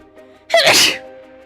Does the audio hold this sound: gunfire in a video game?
no